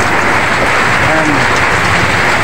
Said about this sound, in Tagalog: maulan, sobrang ulan, lakas ng ulan guys